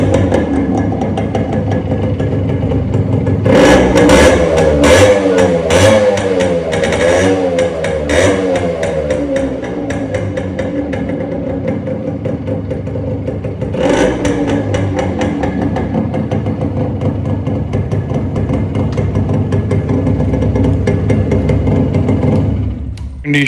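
A 1995 Yamaha RX100 motorcycle engine runs steadily up close, with a loud burst of revving after a few seconds and another short rev later on.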